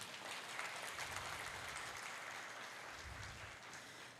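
A church congregation applauds during a Portuguese-language family worship service, a steady wash of clapping that fills the room at moderate loudness for a few seconds.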